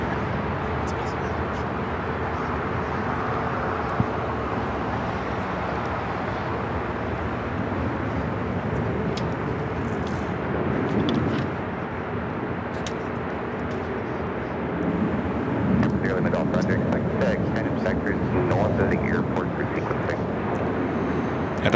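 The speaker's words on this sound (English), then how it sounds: "This is American Airlines 1292 taking off to Nashville on the" American Airlines Boeing 737-800 taking off from Los Angeles International Airport, a sustained jet engine roar that swells in places and stays steady, with a voice talking over it.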